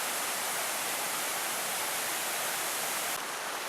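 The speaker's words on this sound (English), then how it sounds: "the water's running a little waterfall-y like" An Appalachian mountain stream tumbles down its channel like a small waterfall, making a dense, steady rushing hiss that stays loud and unbroken throughout.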